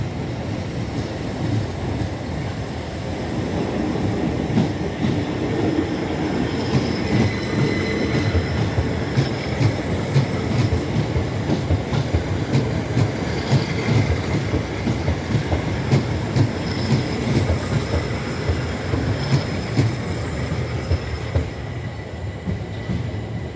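Southern passenger train of six coaches at London Bridge station, rolling past with a steady, loud rumble and rhythmic wheel clatter throughout, joined by faint squeals and hiss.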